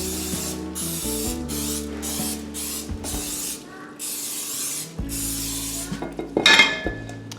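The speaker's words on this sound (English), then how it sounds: "I'm gonna go ahead and spray my Bundt pan so that it is ready to go" Several short, sharp bursts of aerosol cooking spray hiss in a quick rhythm onto a bundt pan, followed by light metallic clinks of the pan being handled.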